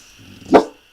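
A single sharp dog bark, close and fairly loud, rising out of a faint low growl and ending abruptly within a second, with no talking.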